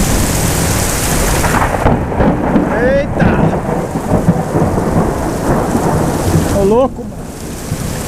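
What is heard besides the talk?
thunderstorm with thunder and heavy rain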